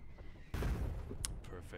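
Artillery gun fires in the war game Foxhole, one heavy boom followed by a rumbling tail and faint distant cracks, heard with game ambience in the background.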